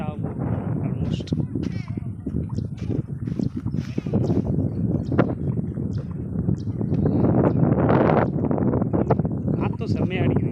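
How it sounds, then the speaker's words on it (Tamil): Strong wind at a lotus lake buffets the microphone in a loud, continuous rumble, with people talking throughout. "காற்றும் செம்மையாக அடிக்குதுங்க."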